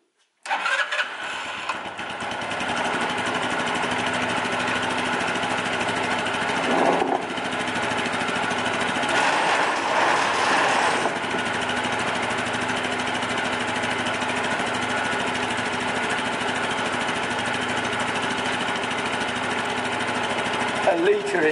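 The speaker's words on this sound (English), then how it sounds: "So, dipstick in, and let's run the motor." The 125 cc engine of a Scomadi Royal Alloy TL 125 scooter starts up and then runs at a steady idle. It stays loud and close for about twenty seconds.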